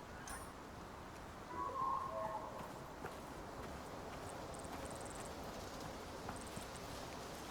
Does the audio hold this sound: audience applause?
no